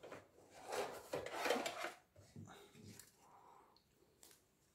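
A drive bay being pulled out of a laptop gives close, soft scraping and rubbing, then a few light plastic clicks and taps, fairly quiet.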